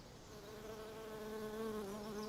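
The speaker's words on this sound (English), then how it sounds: "On a summer's day there is a constant buzz." Bees buzzing around flowering geranium ibericum in a summer garden, a steady close drone with wavering pitch that holds for the whole stretch with no voices.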